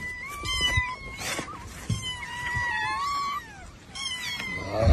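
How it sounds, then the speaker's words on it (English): Several kittens meow and wail insistently while being loaded into a Honda's trunk, overlapping high cries, fairly close and sustained, with brief thumps and rustling between calls. "every time he puts one cat in, another one jumps out"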